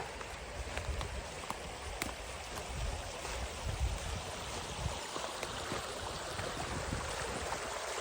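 Stream water flows steadily and close by, a constant broadband rush with small splashes while someone walks along the bank, with no talk.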